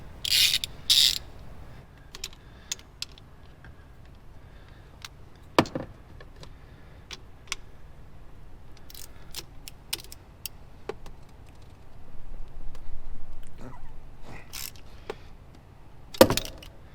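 Tightening the timing belt tensioner on a Ferrari 360 produces sparse metallic clicks and ratcheting ticks against a quiet workshop background, with a few louder clanks and a short stretch of rustling near the end.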